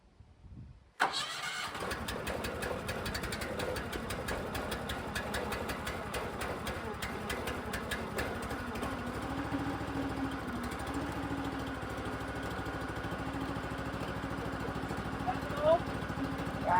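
A firewood processor's engine cranks and catches about a second in, then runs at a steady, rough idle with a mechanical rattle for the rest of the clip. People talk over the running engine.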